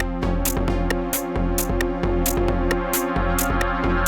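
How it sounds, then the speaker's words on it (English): A Korg Minilogue XD chord with the filter resonance cranked until it self-oscillates, pulsing in a rapid repeated rhythm with sharp bright accents over a sustained low drone, loud and continuous with no voices. "play a chord and then crank the resonance so that it self-oscillates,"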